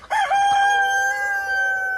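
A rooster crows once, loud and close, a long sustained cock-a-doodle-doo among backyard chickens in the USA, ringing clearly above a quiet background.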